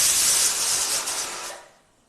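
Steam hissing hard from a pressure cooker whistle while chickpeas cook, a steady bright rush lasting over a second before trailing off into quiet.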